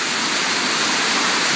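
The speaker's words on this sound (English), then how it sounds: "they have one gate open, dumping water down into the river" Water released through an open dam gate on the Feather River pours down into the river below, a loud, dense, unbroken roar with no pauses or voices.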